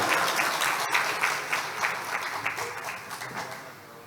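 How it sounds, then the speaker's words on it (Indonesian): A crowd at a wedding feast at an Islamic boarding school claps for the regent, a steady, fairly soft wash of applause that slowly tapers over several seconds. "Tepuk tangan untuk bupati kita."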